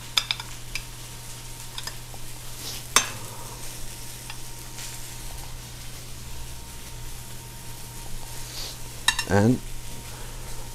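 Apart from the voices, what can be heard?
marinated filet searing in a preheated pan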